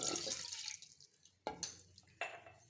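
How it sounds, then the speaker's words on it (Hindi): About a cup of water poured into a pot for tamarind chutney, in three short splashing bursts with gaps between, close and fairly soft. "और इसके साथ हम 1 कप पानी भी शामिल करेंगे।"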